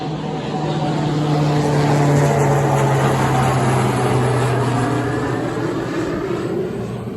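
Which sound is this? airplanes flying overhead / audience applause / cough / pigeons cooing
airplanes flying overhead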